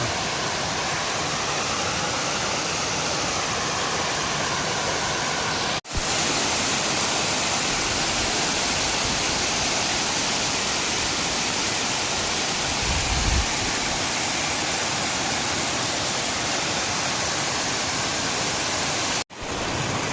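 A steady, roaring rush of the Pedda Devudu waterfall fills the whole clip, loud and unbroken apart from two brief dropouts.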